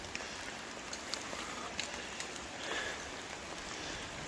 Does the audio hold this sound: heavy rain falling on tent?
yes